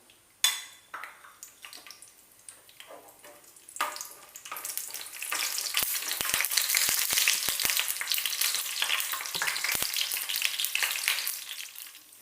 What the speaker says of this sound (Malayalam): ഇനി ഇതിലേക്ക് ആദ്യം അണ്ടിപ്പരിപ്പ് ചേർത്ത് വറുത്തെടുക്കാം.